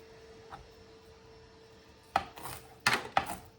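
A knife cutting the stem off collard greens on a cutting board, a faint tap followed by three sharp chopping strikes close by, with no talk.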